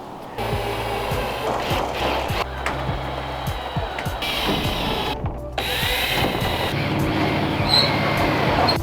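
Power tool, likely a drill, fastening tin roofing sheets onto a chicken coop, whirring in repeated short bursts over steady outdoor background noise; no speech.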